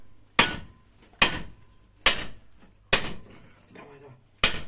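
Five sharp, ringing sledgehammer blows on metal farm machinery at a slow, even pace, each decaying quickly, with faint voices murmuring between strikes.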